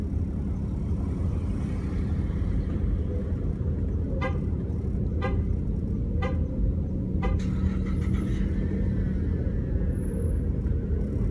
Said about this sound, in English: Stuck in a traffic jam in Harden, there's only four cars in the main drag.